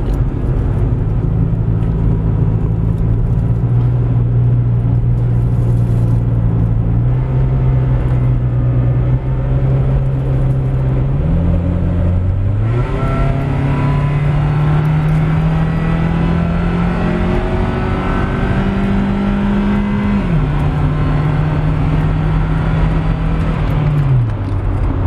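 A 2005 Honda CR-V drives on a highway, its engine droning steadily under road and wind noise, with engine pitch climbing through gears and stepping up as it accelerates; loud and continuous throughout.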